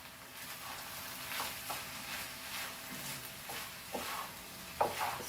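Vegetable fried rice sizzling in a wok, stirred with repeated scraping strokes that come every second or so over a steady frying hiss, close and moderately quiet.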